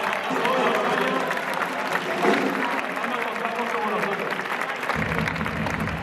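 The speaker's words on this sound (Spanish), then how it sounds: "Un aplauso para ellos, por favor, un aplauso para ellos que nos quieren aguantar." Audience applause for teachers at a high school graduation ceremony, a continuous crowd clapping throughout with some cheering and murmuring voices mixed in, fairly loud and close.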